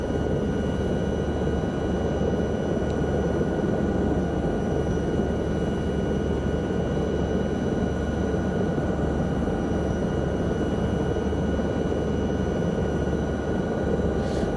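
Steady, loud helicopter rotor and engine drone of a Lama helicopter over Peterborough Conington Airport in Microsoft Flight Simulator, an even unbroken roar with a low throbbing rumble and no voices.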